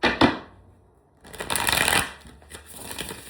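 Tarot cards are shuffled by hand in two brisk riffling bursts with a short pause between, close and crisp, with no talk.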